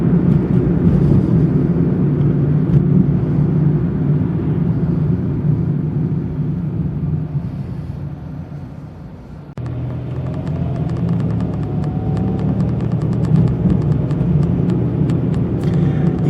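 A small 2024 Mitsubishi Mirage hatchback driving through town, heard from inside as a steady loud engine and road rumble that dips briefly as if slowing, then picks back up.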